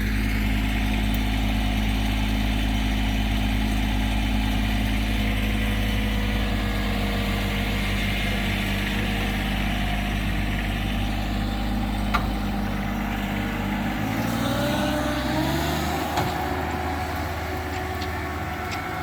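A 1948 Ford F6 truck's engine runs steadily and loud throughout, a continuous low rumble with a shift in pitch near the end as it pulls away on a road trip to a recycling center parking lot.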